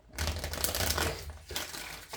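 Tarot cards being shuffled by hand: a couple of quick riffling, papery bursts close to the listener, with a short pause between them and no talking.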